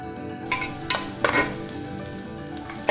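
Onions sauté in a pan while a utensil stirs, giving several short scraping clatters over the continuous frying hiss.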